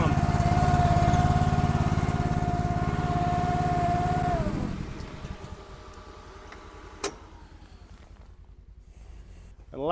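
A small machine's pump whirs loudly in cold, snowy conditions, a steady droning hum that winds down and stops about halfway through, leaving faint clicks and a sharp knock.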